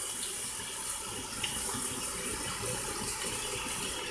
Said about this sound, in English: I'm gonna have to go wash my hands